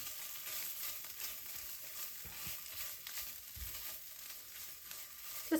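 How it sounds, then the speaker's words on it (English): Tomato paste cooking with spices and onions in a pan over medium heat, giving a soft, steady sizzle with faint scraping throughout and a small clatter at the very end; no one speaks. "Just gonna cook up the tomato paste a little bit."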